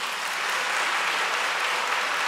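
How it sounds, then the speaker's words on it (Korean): Congregation applause at a church Sunday service, steady dense clapping from a large crowd filling the space for a couple of seconds, with no talk over it. "박수 부탁드립니다."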